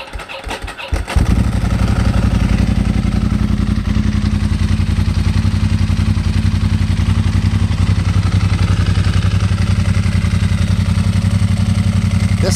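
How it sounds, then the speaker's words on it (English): A Ducati Monster S2R1000 motorcycle cranks briefly, catches and settles into a loud, close, steady lumpy idle with an even pulsing beat and no talking. "Let's give her a start here."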